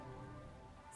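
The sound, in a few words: rain in video game Master Detective Archives: Rain Code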